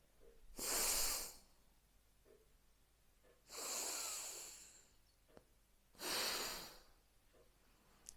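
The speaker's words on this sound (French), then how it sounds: "Inspire à droite, bloque la droite, expire à gauche." Alternate nostril breathing during a sophrology relaxation session: three long, soft whooshing breaths through the nose, spaced a few seconds apart, close and clear against a quiet room.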